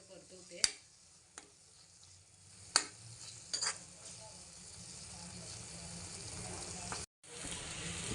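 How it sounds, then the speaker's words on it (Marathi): Tomato, onion and masala sauté in oil for a crab curry with a soft, low sizzle, broken by a few sharp clicks and utensil knocks, then a gradually rising frying hiss. "टॅमेटो कांदा मसाल्यामध्ये व्यवस्थित परतून घ्यायचं"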